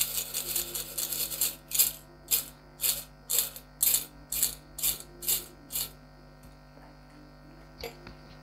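Coins shaken inside a brass Kubera pot with a metal lid give a series of about ten rhythmic metallic rattling bursts, close and fairly loud, followed by quieter settling and one last clink, with no speech.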